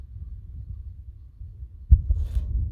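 Low rumbling background with a single sudden muffled thump from a distant explosion during shelling, followed by a deep lingering rumble.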